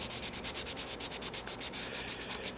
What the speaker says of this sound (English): If you put too much pressure on it, what happens is the sandpaper will actually go down inside the letter